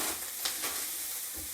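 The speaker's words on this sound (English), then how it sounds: "And then you just want to mix it up. Get the soy sauce all in the rice." Rice being stirred and mixed with soy sauce in a hot pan, a soft scraping and gentle sizzle heard up close for a moment, no voices.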